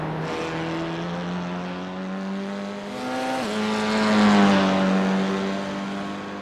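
A race car in iRacing at Oulton Park runs at full throttle, its engine note holding a steady high drone, then drops sharply under heavy braking and shifts down, revving on close and loud without a voice over it.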